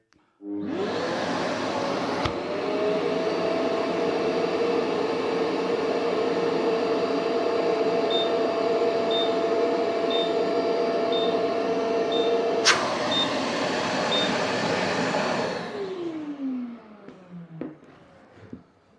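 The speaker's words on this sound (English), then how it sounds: "when the bag gets full or it gets blocked, an alarm goes off" A dust extractor runs steadily and loudly for about fifteen seconds with a faint repeating beep over its drone, the alarm for a full bag or blocked hose, then winds down and stops.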